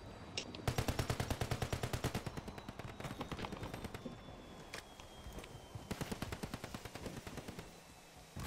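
Rapid bursts of video game gunfire crackle in quick automatic volleys, with short pauses between strings of shots and one brief louder burst, all fairly close and sharp.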